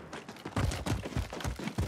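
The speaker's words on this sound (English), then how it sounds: "There's some gunfire around there, though" Muffled video-game gunfire near a military base: a steady run of five or six low, thudding shots spaced about a third of a second apart, moderately faint and somewhat distant, with no voices over them.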